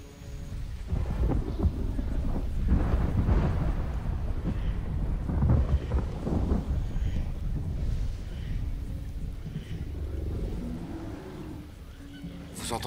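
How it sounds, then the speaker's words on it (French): Deep rumbling thunder rolls through steady rain and wind, with repeated low booms building and fading over several seconds. "Ça vient sûrement du tonnerre."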